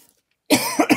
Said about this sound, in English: I don't want to start coughing now